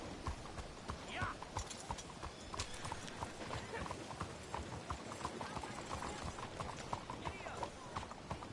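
Horse hooves clip-clop in a steady gallop rhythm, close and prominent, while riding through Red Dead Redemption 2, with occasional whinnies and a voice shouting over the pounding.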